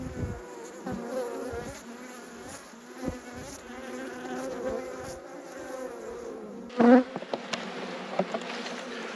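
Honey bees buzz continuously around an open rescue hive, a close, dense hum with individual bees flying past, followed by a sharp clatter of hive handling near the end.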